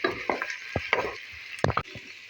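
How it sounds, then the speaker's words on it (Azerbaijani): A spoon stirs onions and meat frying with tomato paste in a pan, giving several sharp scraping strokes close by over a steady background sizzle, with no talk. "Soğan və ət qızardıqdan sonra üzərinə tomat pastasını əlavə edirəm və onları da yaxşıca qarışdırıram."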